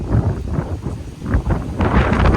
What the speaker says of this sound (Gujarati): પવન જબ્બર આવે છે